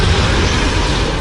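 Incendio fire spell cast in Hogwarts Legacy, a loud, dense roaring burst of flame that stays steady and close for about a second, with no speech.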